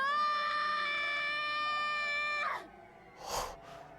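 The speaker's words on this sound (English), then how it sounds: "Upon hearing my scream, Rika died and fell on her face into the poo" A high, sustained scream sound effect from the visual novel game Higurashi: When They Cry holds loud and steady for about two and a half seconds, then cuts off, followed by a brief breathy burst.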